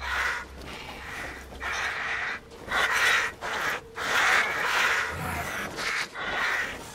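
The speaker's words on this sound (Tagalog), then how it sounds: "Kala ko hindi ako atakihin ng uwak." Crows caw repeatedly in the video game Resident Evil Village, harsh, loud calls arriving in irregular bursts over an eerie ambient background, with no talking.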